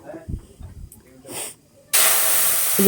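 Olive chutney poured into hot oil with mustard seeds bursts into a loud, broad, continuous sizzle after soft clatter and a short hiss, close and alone.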